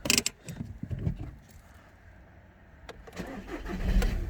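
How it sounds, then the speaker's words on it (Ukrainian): A Skoda Superb engine with 258,000 km cold-starts near the mic, cranking and catching after some clicks and rattles, then rising into a low running rumble. "Автомобіль заводиться без проблем на холодну"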